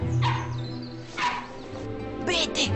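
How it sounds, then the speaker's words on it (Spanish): A dog barks in short bursts during a film's shower scene, three distinct yapping barks spaced about a second apart, fairly close and clear over a low background hum. "Ladra."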